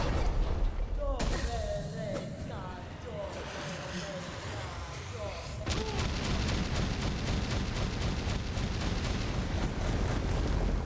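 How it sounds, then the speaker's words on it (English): An explosion in Hollow Knight: Silksong erupts with a sudden loud blast, then gives way to a dense rumbling, crackling wash layered with game music and effects, while a person talks over it. "Does that explosion do damage to you if you're standing in it?"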